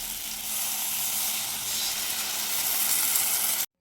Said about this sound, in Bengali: আলুগুলো মশলাতে দিয়ে দিয়েছি, একটু বেশিক্ষণ ধরে কষাবো